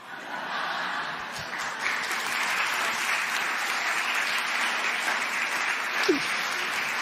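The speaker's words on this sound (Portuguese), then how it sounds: "Muito obrigado pelas palmas" Steady, sustained audience applause fills a stand-up comedy show, dense clapping holding level throughout with a faint vocal shout near the end.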